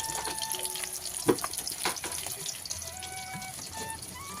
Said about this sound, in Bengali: আর বোন এদিকে এই যে মাছ ভাজা বসিয়ে দিয়েছে